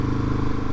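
Husqvarna 701 S single-cylinder motorcycle engine revving hard and steadily up close as the rider attempts a wheelie, a continuous loud low drone with no talk.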